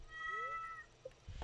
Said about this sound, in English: That was the cat.